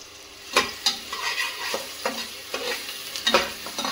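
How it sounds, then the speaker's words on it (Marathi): Finely chopped onion frying in hot oil in a pressure cooker, a steady close sizzle broken by sharp stirring scrapes and clinks, with no talk. "तर त्याच्यामध्ये आपण जो बारीक कांदा चिरून घेतला होता"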